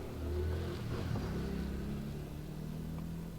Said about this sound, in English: So let's anyway start the car.